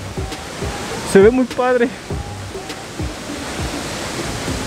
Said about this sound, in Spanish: Oh, esta cascada está muy, muy, muy padre, la verdad.